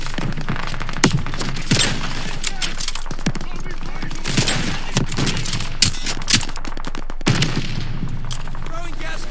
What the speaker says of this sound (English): Tossing grenade! Stun grenade out!